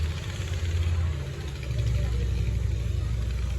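A 2014 Harley-Davidson Wide Glide with custom paint and a fat rear tire rumbles nearby at idle, its low, steady engine drone swelling slightly as the rider gets on, with faint talk in the background.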